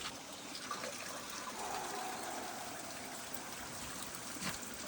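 Water from a spring beside a concrete spot flows and trickles steadily nearby, a continuous close splashing wash with no voices.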